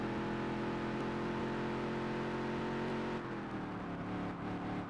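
A Featherlite Modified race car engine in a racing game, revving loud and close, then dipping and climbing again as it downshifts, a continuous buzzing roar with no talk.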